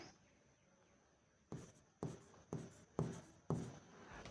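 A pen scratches on paper as a goodwill amount is written down during an accounting lesson: five short, close, quiet strokes at an even rhythm after a near-silent start.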